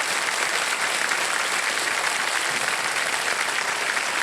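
Sustained studio audience applause on a televised quiz show set, dense and steady from start to finish with no voices over it.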